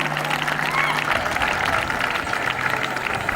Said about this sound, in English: not be miserly in giving them a big round of applause